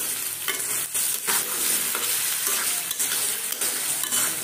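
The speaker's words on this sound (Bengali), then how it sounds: "আলু, কাঁচামরিচ, পেঁয়াজ ভেজে নিচ্ছি।" Potatoes, green chillies and onions frying in a pan while being stirred, a steady close sizzle with repeated scraping strokes of a utensil throughout, no talking.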